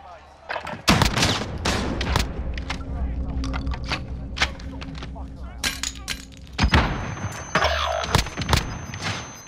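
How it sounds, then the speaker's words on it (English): Double-barrel shotgun blasts in a video game, several loud booming shots spaced a few seconds apart over steady game noise and occasional voices. "I had to shoot this guy 5 times with a double barrel"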